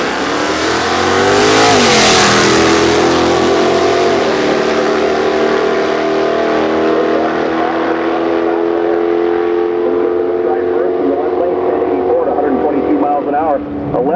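A 1970 Chevrolet muscle car, a nitrous outlaw street car, roars loud and close at the drag strip, its engine sustained and rising with a brief surge early on, with a voice talking over it.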